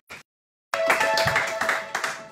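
Worshippers in a church service clap together, first a brief burst, then after a pause a sustained round of rhythmic clapping, close and lively, with a voice faintly under it.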